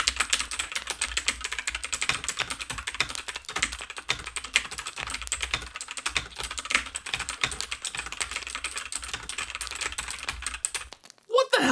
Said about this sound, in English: Hey, Mike, could you just use the keyboard that's already on your laptop, pal?